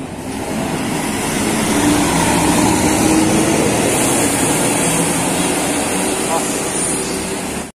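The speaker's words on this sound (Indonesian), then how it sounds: "Ini kembali melintas satu unit bus Mekar Jaya Utama." A Mekar Jaya Utama tour bus rolls past on a town road in Ciamis, its engine a steady low rumble that swells and holds loud through the pass before cutting off.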